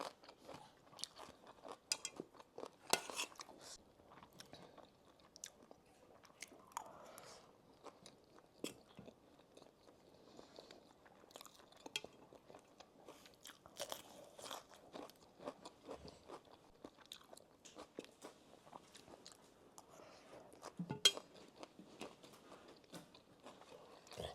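Loud, crunchy chewing up close, with bites and crunches coming in an irregular, steady stream and no talking.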